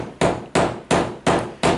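A hammer taps across a roof to find the rafters: five sharp, evenly spaced knocks about a third of a second apart, loud and close, with no talking.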